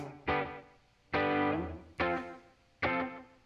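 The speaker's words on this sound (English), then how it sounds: "I've got a little bit of chorus delay and reverb pedal going for this." Four strummed electric guitar chords, each ringing out with a shimmering chorus, echoing delay and reverb tail, played alone with short gaps between.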